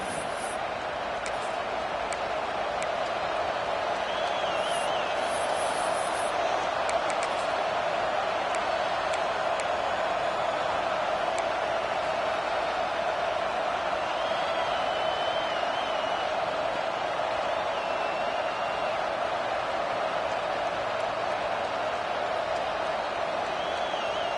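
Steady roar of a stadium crowd at an Alabama vs Notre Dame college football game, a dense wash of noise holding level throughout with faint whistles and shouts rising above it.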